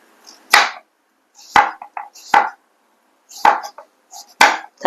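Knife chops strike a board at an irregular, unhurried pace, about six crisp close hits separated by short quiet gaps.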